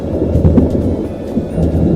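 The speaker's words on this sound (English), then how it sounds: "Storms the first night, just rain the second, storms this night." Thunderstorm over a tent while motorcycle camping in Texas and New Mexico: loud, close rumbling thunder with heavy rain drumming steadily on the fabric.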